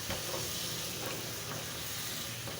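Ridge gourd and small shrimp sautéing in spice paste in a pan, making a soft, continuous sizzle and hiss with faint stirring, fairly quiet and steady throughout.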